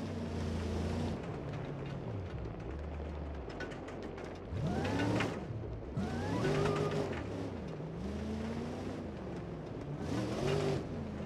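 RAM TRX truck in BeamNG Drive ploughing through sand dunes, its engine droning steadily with repeated revving surges and rising, falling pitch sweeps over a continuous loud mechanical rumble, no talk.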